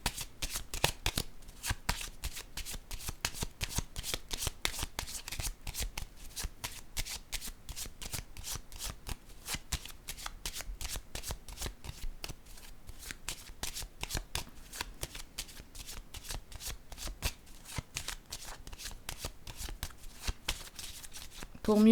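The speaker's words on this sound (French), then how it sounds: "je vais piger une autre carte." Playing cards being shuffled and drawn, producing a continuous dense patter of riffling clicks close up for over twenty seconds, with a voice speaking underneath.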